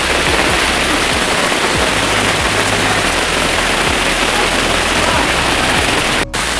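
Heavy rain pours in Varanasi, India, a dense, loud, continuous hiss of water hitting surfaces, with low rumbling underneath and no talking.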